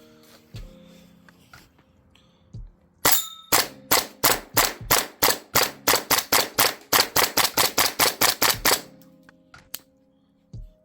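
A gas blowback airsoft rifle fires at -7°C in winter cold: after a few clicks, one shot then a rapid string of about twenty sharp reports, loud and near, ending abruptly.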